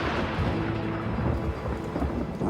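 Rain falls on desert ground while thunder rumbles low and heavy, a dense, steady storm wash with deep rolling booms underneath, close and loud throughout.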